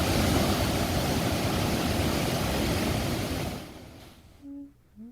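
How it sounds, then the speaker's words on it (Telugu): Floodwater pouring as a waterfall from an overflowing lake after heavy rain in Hyderabad, a loud, dense roar of rushing water that fades out near the end, followed by a faint short tone. "దగ్గర ఉన్న చెరువు పొంగి పొర్లటంతో వాటర్ ఫాల్స్ ఏర్పడ్డాయి"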